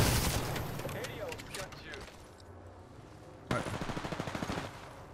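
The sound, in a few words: Kraber sniper rifle gunshot from the video game Apex Legends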